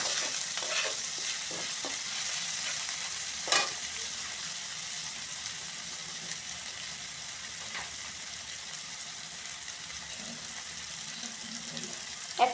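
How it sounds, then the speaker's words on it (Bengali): Chopped onion and chili fry and get stirred in a pan, giving a steady sizzle with occasional scraping knocks of the spoon against the pan. "এখন ভালো করে নেড়ে চেড়ে একদম ভাজা করে নেবেন।"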